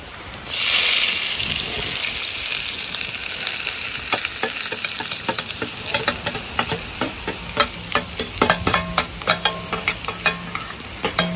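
Onions sizzle steadily in hot oil while being fried for a Bakrid biryani, with spoon-against-pan scrapes and clinks growing more frequent toward the end.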